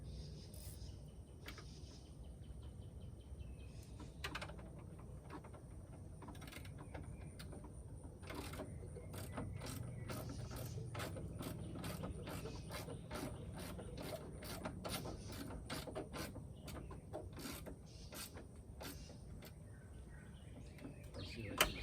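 Ratchet clicking on a pickup truck's driver's side door, a quick run of sharp metallic ticks in irregular bursts over a faint, steady background hum, heard close and fairly quiet.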